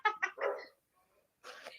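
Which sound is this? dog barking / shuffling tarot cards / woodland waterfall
dog barking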